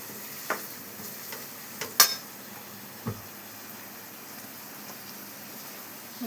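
Spiced onion and egg fry stirred in a pan after chilli powder and salt go in: a soft, low sizzle under a few sharp scraping clicks of the spatula, with no talking.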